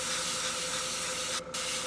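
Spray paint from an airbrush or can misting onto a Gundam model for a camo finish: a continuous close hiss with a steady tonal whine underneath and a brief dip near the end.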